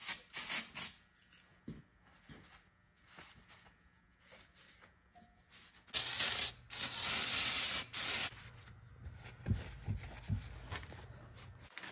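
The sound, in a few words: spraying brake cleaner on engine head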